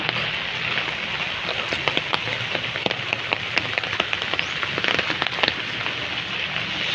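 Steady rain patters on a surface nearby, a dense hiss dotted with sharper drips, continuing throughout without any talk.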